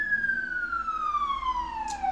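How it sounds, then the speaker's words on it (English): An ambulance siren sounds alone, a single long tone sliding steadily downward in pitch, fairly close and clear. "Ambulance!"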